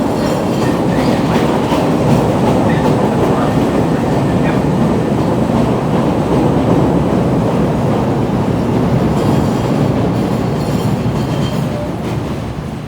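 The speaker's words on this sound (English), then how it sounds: "the actual reason we were going to the state/lake station was for this, the CTA holiday train for 2021" Chicago CTA holiday train for 2021 rolling past at State/Lake station, a loud continuous rumble with clickety-clack wheel rhythm and faint wheel squeal, steady throughout and easing slightly at the end.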